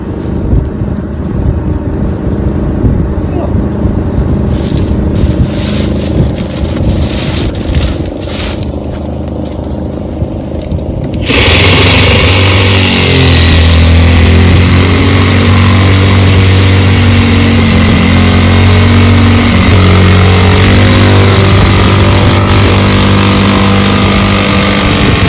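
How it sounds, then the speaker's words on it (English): A portable generator runs loudly and continuously at a hunting spot, its engine drone jumping abruptly to a heavier, fuller hum partway through and holding steady to the end. "So I brought the generator to make my job a little easier."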